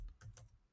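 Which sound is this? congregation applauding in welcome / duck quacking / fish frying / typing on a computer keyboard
typing on a computer keyboard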